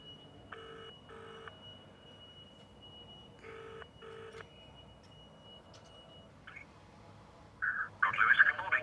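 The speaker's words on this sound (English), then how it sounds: "There we go, we're now ringing." A telephone ringing tone plays through a car hands-free kit, two double-burst rings repeating at an even pace, fairly faint, followed by a louder click and brief noise as the call connects.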